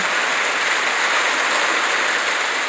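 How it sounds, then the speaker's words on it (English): Hail falling in Portland, small ice chips pelting the ground amid freezing rain, a steady dense hiss that holds unbroken and fairly loud throughout with no voices. "Now it's hailing."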